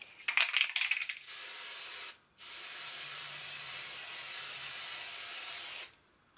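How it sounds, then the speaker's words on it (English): A steady aerosol varnish spray hisses close by for several seconds over gouache artwork, briefly pausing once, after some light rattling at the start. "the flow of the aerosol spray"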